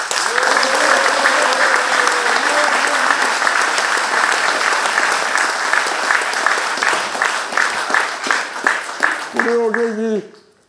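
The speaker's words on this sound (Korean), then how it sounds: "우리 전인권 선생한테도 손뼉 한번 쳐줍시다" An audience at a lecture hall talk bursts into sustained applause, dense close clapping that holds steady and then thins toward the end, with a voice rising briefly over the last claps.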